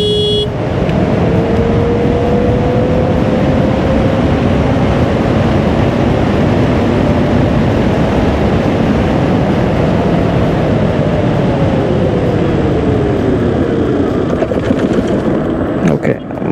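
A Simple One electric scooter accelerates in Sonic mode, with a loud, continuous rush of wind and road noise under a motor whine that climbs slowly, holds, then drops away near the end.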